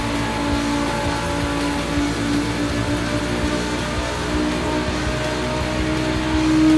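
A race car engine drones hard and steady in The Crew Motorfest during a Gymkhana Grid Masters event, a loud continuous high-revving whine with a slight rise at the end.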